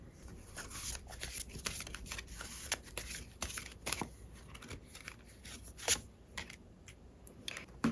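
Tarot cards being shuffled by hand, a steady stream of soft papery riffles and flicks with occasional sharper snaps, close up and fairly quiet, with no talking.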